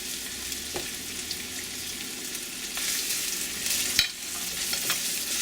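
Onion, green pepper, garlic and ginger fry with curry leaves for a vada pav filling, giving a loud, steady sizzle with occasional sharp splatter pops and stirring scrapes close by.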